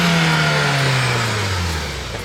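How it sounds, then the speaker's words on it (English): A 2015 Volkswagen Golf GTI two-door accelerates hard with some wheel spin: a loud, close engine roar that holds strong for about two seconds while its pitch slides gradually downward. "I think we got a little wheel spin."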